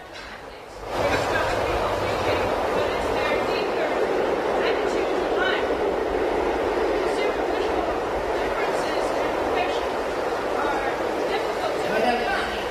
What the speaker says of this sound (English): Well, can't you hear that train?